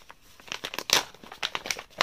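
A plastic zip-lock pouch holding mint tea bags crinkles and rustles in bursts of crackling handling noise, close up and fairly quiet, with no voices.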